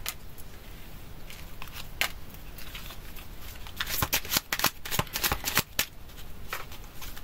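Tarot cards are shuffled close by in quiet, rapid riffling bursts, sparse at first and then a dense flurry of crisp card snaps near the end, with no one speaking over them.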